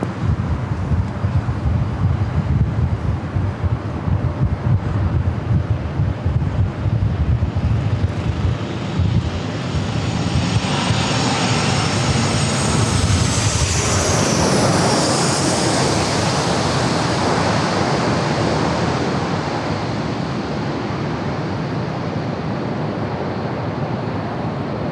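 Passenger jet arriving at San Diego airport on a flight from El Paso, Texas, its engine roar swelling and shifting in pitch as it passes near, with wind buffeting the microphone throughout.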